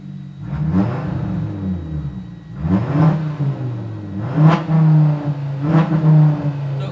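An Audi RS3 with an upgraded exhaust and resonator revs up close in three or four sharp throttle bursts over a steady deep idle rumble, with no talking.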